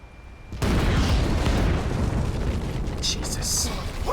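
A detonated charge goes off in Red Dead Redemption 2 with a sudden loud blast. A long, heavy roaring rumble follows, and a faint hiss comes in near the end.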